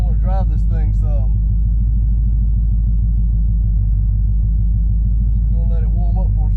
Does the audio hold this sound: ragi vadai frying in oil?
no